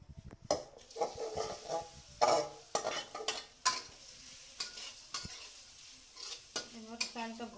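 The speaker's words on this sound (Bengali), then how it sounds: "এবার একটু তেল দিয়ে চালটাকে ভুনবো" Rice stirred and fried in a little oil in a pan for firni, with scraping spoon strokes, clinks against the pot and a soft sizzle in irregular bursts, close up and without speech.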